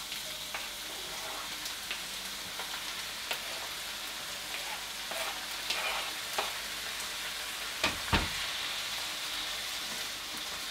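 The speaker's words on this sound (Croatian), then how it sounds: "I dok paradajz malko se proprže" Chopped tomato fries in a pan for seafood risotto, giving a steady close sizzle and crackle with scattered louder pops and spits, a few sharp bursts near the end, and no talking.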